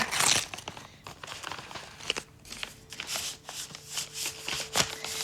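Paper envelope holding a letter and photos ripped open by hand, a close crackling tear followed by repeated crinkling and rustling of the paper.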